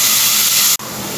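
Onions sautéing in a pan for a coconut milk pulao, a steady loud close sizzle and hiss with one brief dropout.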